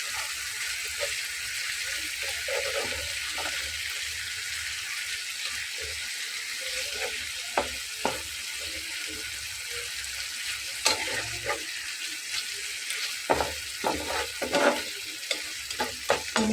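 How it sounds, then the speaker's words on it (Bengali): Fish and spices fry in a pan with potatoes, a steady close sizzle running throughout while a spatula stirs and scrapes in irregular strokes that grow more frequent toward the end; no speech. "মাছটাও কষানো হয়ে যাচ্ছে মশলাটাও কষানো হয়ে যাচ্ছে"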